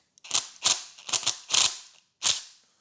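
A small ratchet wrench turns a bolt up close in five quick clicking bursts, each a crisp run of pawl clicks with short pauses between strokes.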